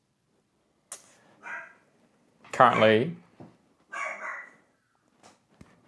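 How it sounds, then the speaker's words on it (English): Dogs bark in a few separate bursts, moderately close, with a voice speaking briefly in between. "the dogs are going off"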